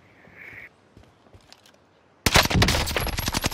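Burst of rapid automatic fire from a Bren light machine gun in a multiplayer war shooter near a power plant, loud and close after a quiet lead-in with a brief faint beep.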